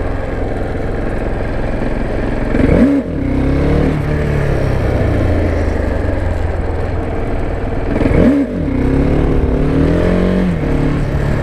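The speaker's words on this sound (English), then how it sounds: "you can't put me on this bike and expect me to not at least try 1 or 2 wheelies." KTM Duke 690 motorcycle revving hard during wheelie attempts: a loud, steady engine drone with two sharp rising-then-falling rev sweeps a few seconds apart, close and continuous, with no talking.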